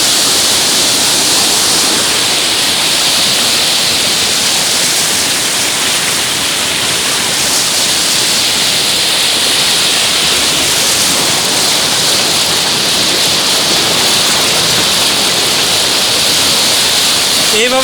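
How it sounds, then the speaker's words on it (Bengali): Loud, continuous roar of floodwater rushing down like a waterfall, a dense hiss that never lets up, heard close by without any speech. "মনে হচ্ছে কোনো ভয়ঙ্কর জলপ্রপাত থেকে নিচে পানি পড়ছে"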